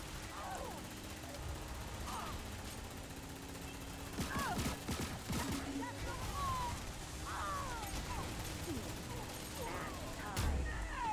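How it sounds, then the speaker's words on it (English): Gunfire bursts and a missile impact in the shooter game LawBreakers crackle at moderate distance, with scattered shots and blasts over a busy battle background, while a person talks at times. "Oh, hit by a missile."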